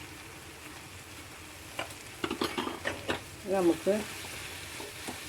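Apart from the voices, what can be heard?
stirring okra masala curry in a pan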